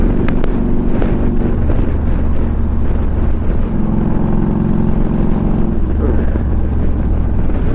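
A 2000 Harley Davidson Ultra Classic motorcycle being ridden outdoors, its engine a loud, continuous low drone with wind noise, and someone talking over it.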